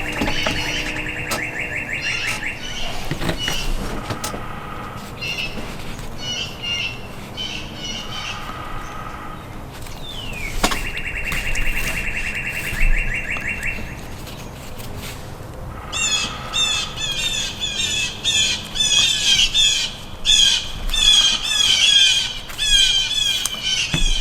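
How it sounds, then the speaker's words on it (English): Blue jays squawk repeatedly in harsh, rasping bursts overhead outdoors, some calls loud and near, others fainter, with short pauses between series and no talking. "Sounds like we've got some blue jays flying overhead."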